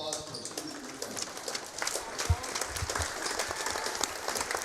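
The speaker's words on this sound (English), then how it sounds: "Let's give them all a big round of applause for our students and their families." An audience at a high school wrestling quad event gives a fairly faint round of applause for senior wrestlers and their families, with scattered clapping and crowd noise and voices mixed in.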